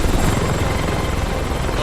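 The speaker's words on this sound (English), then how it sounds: "Oh, it's that same helicopter again." A helicopter in the video game Metal Gear Rising thunders steadily and loudly, its dense rotor roar continuous throughout without pause.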